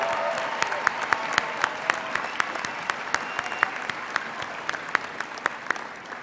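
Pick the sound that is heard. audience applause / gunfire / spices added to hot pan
audience applause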